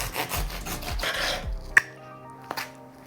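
Close rasping strokes of a poor-quality knife sawing through watermelon, several quick cuts, then a couple of light clicks in near silence.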